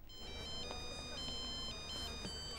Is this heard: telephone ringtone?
yes